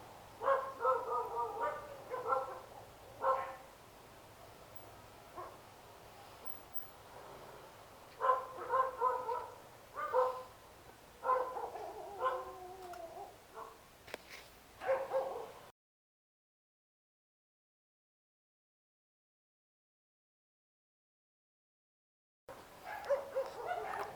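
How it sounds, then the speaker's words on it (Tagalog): Several dogs bark and yip repeatedly in bursts, fairly close, with pauses between volleys and a stretch of silence near the end. "May mga aso dito, no? Daming aso."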